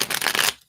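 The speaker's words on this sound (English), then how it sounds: "Let me just give these another shuffle here." A quick riffle of tarot cards being shuffled, crisp and close, lasting under a second before going silent.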